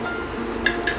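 Omelette-coated bread toast frying in oil in a pan, a steady close sizzle running throughout with a couple of brief louder crackles.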